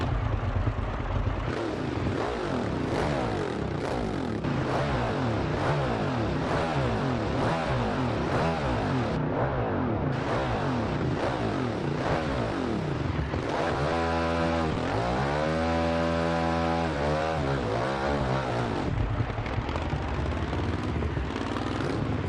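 A 2015 Ducati Scrambler 800 Icon motorcycle engine runs loud and steady while riding, with throttle rises and a clear revving stretch midway, heard alone.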